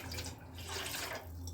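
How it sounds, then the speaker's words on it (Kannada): A glass of water is poured into rava batter for a crispy rava vada, a short, close, steady splashing pour with no voices. "ಒಂದು ಗ್ಲಾಸ್ ನೀರು ಹಾಕೋಬೇಕು."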